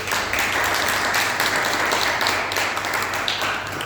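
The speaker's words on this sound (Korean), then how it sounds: "잠깐만 일어나 주시면 박수로 환영하겠습니다." A church congregation applauds during a Sunday service to welcome guests, with dense, steady clapping throughout and no talking.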